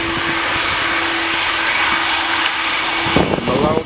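EasyJet jet airliner taking off at Manchester Airport, a loud, steady broadband engine roar with a high whine, heard close throughout with a brief rumble and gust near the end.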